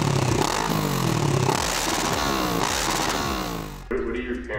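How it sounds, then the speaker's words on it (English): A 650cc motorcycle engine fitted with an Akrapovic aftermarket exhaust runs loud and close, with rising and falling revs throughout and a sharp drop near the end before it picks up again. "I have a new exhaust, which is a Krapovich, which sounds way better than the stock exhaust."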